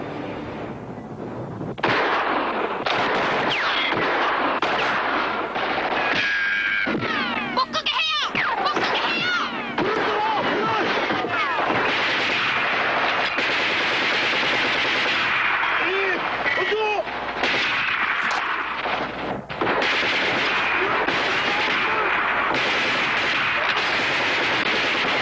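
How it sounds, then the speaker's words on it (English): An artillery bombardment in the Inchon war film rumbles on for about 25 seconds as a loud, dense barrage of blasts and gunfire, with shouting voices heard through the battle noise. "Bombardment!"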